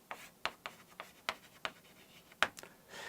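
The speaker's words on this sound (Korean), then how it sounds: "이거 한번 써볼게요." Quiet, close scratchy strokes of writing on a board come in short irregular bursts, each stroke a faint rasp separated by brief pauses.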